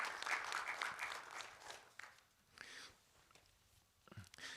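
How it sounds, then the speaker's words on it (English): Audience applause for a panel of speakers at a food security discussion forum, a dense wash of clapping that swells at first and then thins and fades toward the end. "let's have a big applause to our panelists"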